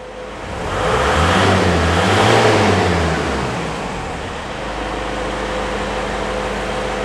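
A Toyota Hilux 2.5 diesel pickup engine revs up and holds at a high, rumbling pitch, then settles back to a steady idle drone; close and loud, with no talking.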